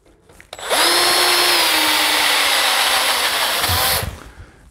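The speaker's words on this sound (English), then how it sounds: "I'm just going to use a step drill to step it up to the next, step it up to that size." A step drill bit enlarging a hole in clamped metal for a fuel transfer tank hose fitting, a loud steady high-pitched whine lasting about three seconds that starts abruptly and then spins down, close to the microphone.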